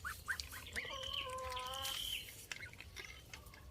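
Ducks calling nearby: a few short quacks, then a drawn-out nasal squawk, followed by scattered softer calls and clicks.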